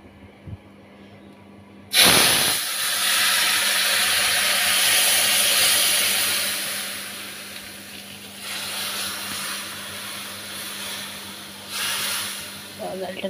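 Dal is poured into hot oil tempered with dried red chili and cumin, setting off a sudden loud hissing sizzle that fades slowly, then flares up again in a few short bursts. Someone talks over the sizzle.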